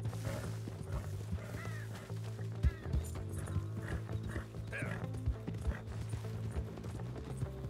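Rhythmic horse hoofbeats in the video game Red Dead Redemption 2 clop along continuously over a low, steady droning background.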